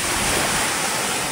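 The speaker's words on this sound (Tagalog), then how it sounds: "Grabe, sobrang lakas nung bagyo." Strong wind and crashing sea waves from a super typhoon on the Bicol coast, a steady loud broadband roar with no break and no voices.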